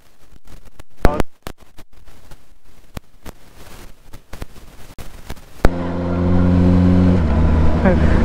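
A superbike engine on a road ride, revving loud and close in a sustained harmonic roar over the last few seconds, with quieter road noise and a few sharp knocks before it.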